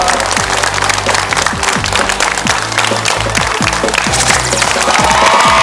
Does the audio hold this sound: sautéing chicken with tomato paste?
no